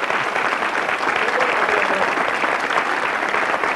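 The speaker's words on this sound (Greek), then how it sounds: "ένα χειροκρότημα στους παραγωγούς" A Greek television game show studio audience from 1993 breaks into loud, sustained clapping that fills the room evenly from start to finish.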